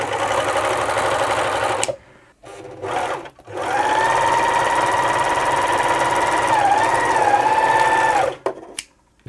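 Freshly serviced Elna T34D serger/overlocker running loud and close in a steady, even whir, in two short bursts then one long continuous run of several seconds, with brief pauses between.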